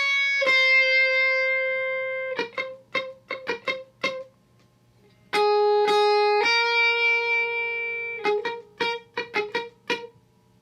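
Clean lead guitar with capo playing a song intro: two long ringing notes each followed by quick plucked melodic figures, bright and close with no talk.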